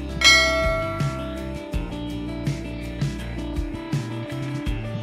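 A bright bell-like notification chime rings out, followed by a quick, melodic sequence of lighter chiming tones, clear and close with nothing else heard.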